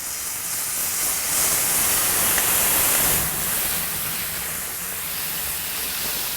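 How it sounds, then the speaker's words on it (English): Jack Daniel's whiskey is poured onto bacon frying in a hot pan, producing a loud, steady sizzling hiss that swells and eases slightly while it continues, with no one talking. "So I'm just going to pour a nice little shot over the bacon here."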